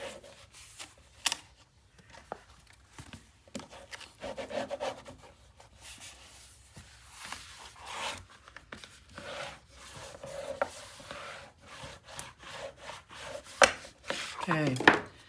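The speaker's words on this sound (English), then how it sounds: "now I can burnish" Bone folder or burnishing tool rubbing firmly across paper on a 9 x 9 Christmas-themed mini album, a close, dry scraping in short irregular strokes with brief taps, no talking.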